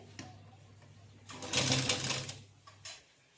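A sewing machine stitches semi patiala salwar fabric in one steady, close burst of a little over a second, with a faint motor hum and soft handling before and after.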